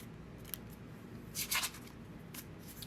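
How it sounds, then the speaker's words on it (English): Soft papery riffling and flicking of cards, with a brief flurry in the middle and a few scattered snaps, faint and close. "I'm just going to shuffle 9 times."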